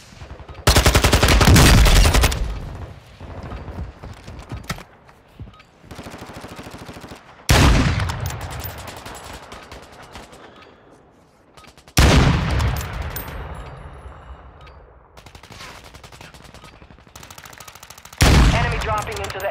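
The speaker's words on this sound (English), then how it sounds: "I'm taking effective fire." Video game gunfire: several loud bursts of automatic fire and heavy shots erupt at intervals, each decaying into a rumbling tail before the next volley, with no talking.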